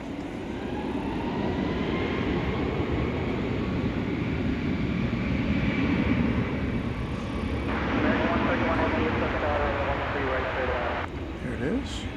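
An American airliner takes off at night from DFW airport with a steady, broad jet roar, loud and continuous for about twelve seconds, while people talk over it and air traffic control radio chatters.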